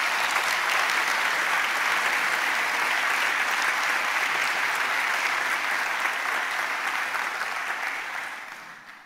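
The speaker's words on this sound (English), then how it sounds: "I think this is a good occasion to thank them by a round of applause for the reviewers." Warm, dense applause from a large audience at the opening ceremony of the 7th Heidelberg Laureate Forum, a steady wash of clapping that holds for several seconds before fading away at the end.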